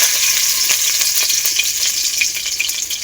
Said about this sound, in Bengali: আর কুচনো লঙ্কা একসাথে দিয়ে আগেটা ভালো করে ভেজে নেব